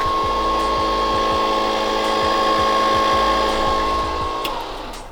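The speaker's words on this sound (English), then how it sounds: "that's just us testing the actual fuel pump" An electric fuel pump whines steadily in a Foxbody race car being built for 800 horsepower, a loud, continuous high-pitched motor drone with a regular low ticking pulse, winding down at the end.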